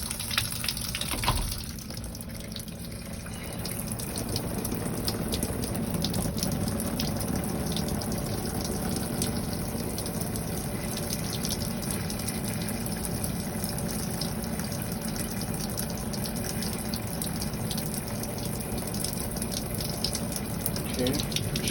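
Water runs steadily through the shower hose of a 2020 Funfinder 28QD travel trailer, a continuous hissing spray that starts softer and then holds at a constant level, close by, with no talking over it.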